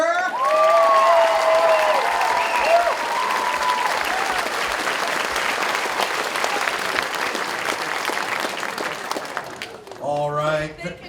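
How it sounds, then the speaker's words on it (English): An audience applauds a third-grade choir teacher at a school choir concert, steady dense clapping filling most of the stretch with a voice talking over it early on, then fading near the end. "How about a round of applause for Mrs."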